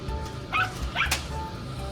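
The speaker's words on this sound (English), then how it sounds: "she's barking at the camera that's moving." A dog inside an RV trailer gives two short yipping barks close by, over a low steady hum, with no voices.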